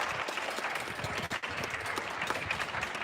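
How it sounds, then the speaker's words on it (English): Steady applause and clapping from many people fill the empty streets of Paris, mixed with the clatter of pots and pans being banged, continuous and dense throughout. "make lots of noise all the way up and down the empty streets of Paris, banging pots and pans"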